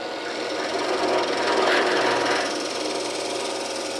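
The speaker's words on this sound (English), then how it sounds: "we just need to drill a hole." A drill grinds steadily into wood while boring a hole for a wooden plug on a wooden boat's toe rail, a loud, rough buzzing chatter that swells slightly midway and continues without pause.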